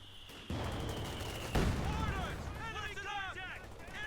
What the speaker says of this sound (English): Here's the heavy mortar hitting. It's just the normal mortar.